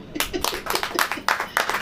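Audience in a church service clapping hands in a brisk, steady burst of overlapping claps, fairly close, lasting a couple of seconds.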